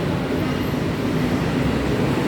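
Continuous low rumble and rolling clatter of an MRT metro train at a station, with a steady mechanical drone, fairly loud and close, no talking.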